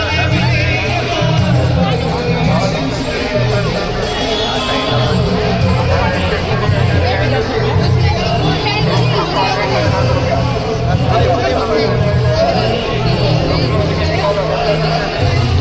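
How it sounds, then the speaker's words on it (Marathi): Dense crowd babble at the Malvani festival in Naigaon, Dadar, a continuous loud hubbub of many overlapping voices and chatter from the surrounding throng, with a nearer voice talking over it. "इथं खूप अशी गर्दी आहे इथे."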